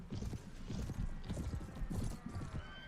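Horse hooves clip-clop at a steady galloping rhythm in the Mount & Blade video game, loud and close, with faint mechanical clatter underneath and no talk.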